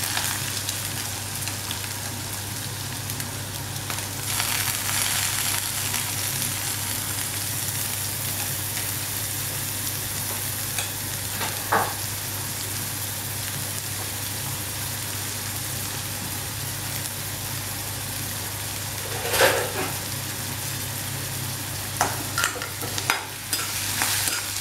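Sliced large onion stirred and frying in hot coconut oil in a pan, a steady sizzle running throughout with occasional scraping stir strokes, no voices.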